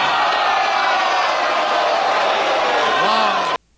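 A wrestling crowd erupts in a loud, sustained roar of shocked oohs and shouts, dense and close, with one voice rising above the mass before the sound cuts off abruptly.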